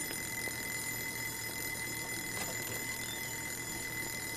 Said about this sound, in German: Schon wieder dieser Wecker.